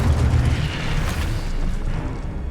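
Incendio fire spell cast in the video game Hogwarts Legacy, a loud rumbling whoosh of flame with a deep booming burst, sustained steadily across the moment with no talking.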